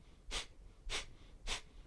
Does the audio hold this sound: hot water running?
no